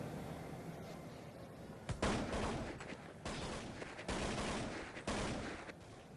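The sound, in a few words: gunfire in the video game Counter-Strike 1.6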